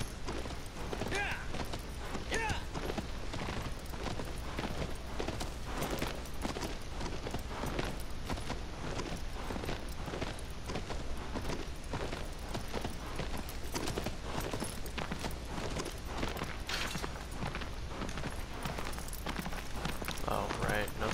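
Horse hooves clip-clop steadily and continuously across the whole stretch in the video game Shadow of the Colossus, mixed with dense in-game ambience and mechanical creaks.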